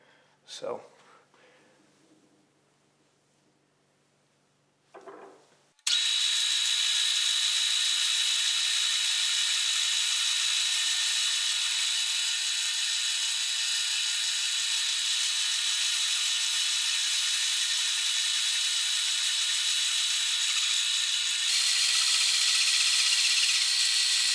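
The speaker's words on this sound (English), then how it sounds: "So I've switched out my end mill to a ball end mill. I'm going to cut down about 350 thousandths, the full length on both sides" Milling machine running a ball end mill through a wooden shotgun stock for a custom A.H. Fox, a loud steady high whine after a few seconds of quiet handling knocks, with a brief shift in tone near the end.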